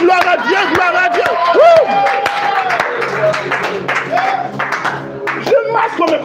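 A church congregation claps and cheers loudly for the Lord during worship, with rhythmic clapping and crowd noise mixed under prominent singing voices.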